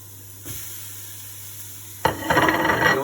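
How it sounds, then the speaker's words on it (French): Beef steaks dropped into a hot frying pan burst into a loud, steady sizzle after a quiet moment, the hiss crackling up close and alone. "Là, nos steaks sont en train de cuire."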